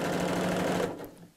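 A sewing machine stitches the seam of a fabric gift bag in a steady, fast whirring burst that runs for under a second, then slows and stops.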